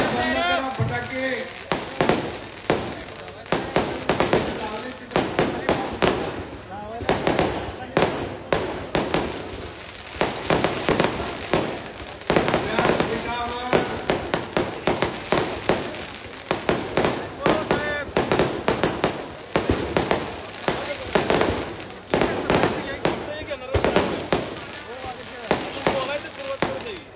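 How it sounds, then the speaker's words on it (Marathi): Firecrackers burst in rapid, irregular crackling volleys, loud and sustained throughout, with voices talking underneath. "फटाके बंद करा, फटाके."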